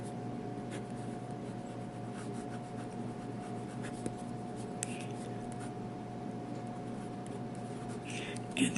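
A fountain pen fitted with a broad Goulet nib scratches steadily across paper, a soft close continuous writing rub over a low room hum, with a few faint taps.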